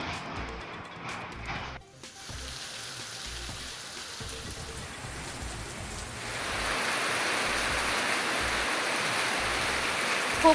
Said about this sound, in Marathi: सांगलीमध्ये 8 दिवसांपासून संततधार पाऊस सुरू